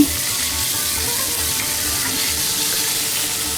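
Ginger garlic paste sautéing in a pan with cumin, chillies and cashews for a coconut milk pulao, giving a steady, close sizzle that runs unbroken throughout with no talking.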